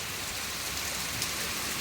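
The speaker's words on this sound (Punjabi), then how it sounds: "ਦੇਖੋ ਜੀ ਮੀਂਹ ਪੈ ਗਿਆ ਮੀਂਹ ਪੈ ਗਿਆ" Dense, steady hiss of rain falling on a surface, close and even throughout, with no voices.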